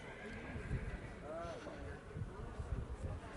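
A horse whinnies during a horse show in the ring at Decize, with a short neigh in the middle over hoof clip-clops, wind noise and a continuous public-address announcer talking throughout.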